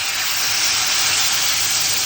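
Water poured into hot oil with fried pepper gravy powder sizzles loudly, a dense steady hiss close up that stays constant for a couple of seconds without any talk.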